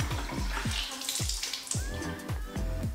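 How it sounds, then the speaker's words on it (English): Tap water splashing in quick, rhythmic bursts as a face is rinsed off at the sink during a night skincare routine, close and fairly loud with no talking. "And then I just go in with water and rinse it off."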